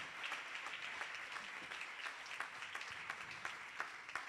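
A church congregation claps together during a Spanish-language worship service, a dense, even applause that holds steady from start to finish with scattered sharper claps.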